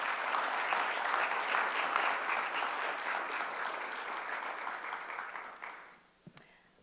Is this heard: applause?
yes